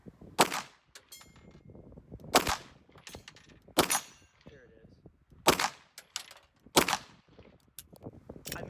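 Hudson H9 pistol fired at a target on a range, several sharp reports spaced a second or two apart, with metallic clanks and rattles between the shots.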